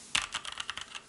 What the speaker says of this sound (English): typing is quiet but has a bit of ping sound